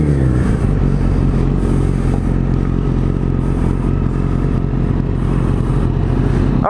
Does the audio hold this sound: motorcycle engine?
yes